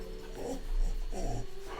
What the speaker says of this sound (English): So anyway, that's why the dog's upset.